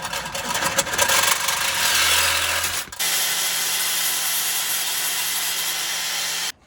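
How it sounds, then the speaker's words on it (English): A power tool grinds through a stud on a Jeep JL frame, a harsh close whirring cut for a few seconds, then a steadier lower-pitched running whine with a faint hum that cuts off abruptly. "you have this little stud sticking out of the frame. We need to cut this off."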